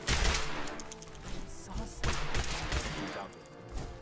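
Repeated gunfire from a firefight against Mirelurks in Fallout 4, a steady run of loud shots and blasts over about four seconds, with a voice speaking now and then over the shooting.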